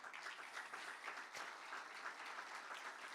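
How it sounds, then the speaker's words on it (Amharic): A church congregation applauds, a dense, even wash of clapping held throughout at a modest distance. "አጨብጭቡ ቅር ቢላችሁ"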